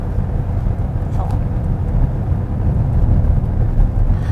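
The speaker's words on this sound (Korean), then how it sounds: "그 옵션으로 설정할 수 있는 그 액티브 배기 사운드도 한번 실행을 해 볼게요" Active exhaust sound from a KGM Actyon, heard from inside the cabin with the windows shut: a steady low engine drone and road rumble, continuous and moderately loud throughout.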